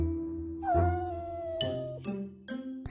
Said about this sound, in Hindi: खतरनाक बिल्ली पापू